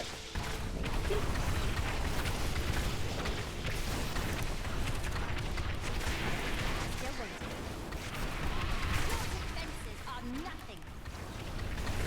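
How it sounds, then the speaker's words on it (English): Wizard spell explosions in Diablo 3 on Torment 14 burst in a steady stream of rumbling blasts and crackles, running continuously at moderate volume. "I do like the steady stream of explosions that I've got going."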